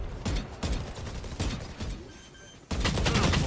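Gunshots from a Valorant match at a professional esports tournament ring out as sharp, loud bursts of rapid fire, several volleys separated by short gaps before a sustained final barrage.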